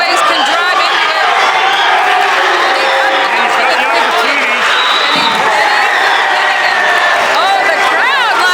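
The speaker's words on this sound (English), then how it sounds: "the fans are cheering for him" A crowd at a junior varsity high school wrestling match cheers and whoops loudly and steadily in a gym, with chatter and scattered shouts mixed in throughout.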